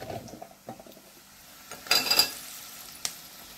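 Chopped capsicum (bell pepper) dropped into hot oil with masala for a gram-flour stir-fry, giving a soft close sizzle and spatter with a louder burst of frying partway through and a few scattered stirring clicks.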